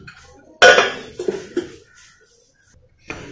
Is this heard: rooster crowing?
no